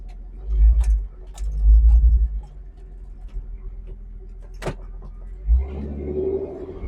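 A car on a short test drive after a new custom catalytic converter is fitted: low engine rumbles swell twice, quiet stretches with small ticks and a sharp knock follow, then the engine rises again near the end.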